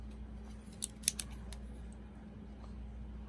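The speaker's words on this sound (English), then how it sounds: "So what I'm gonna do is just cut" Scissors snip fabric to shape a pocket for a homemade hand sanitizer holder, a few quiet close crisp cuts clustered together over a steady low hum.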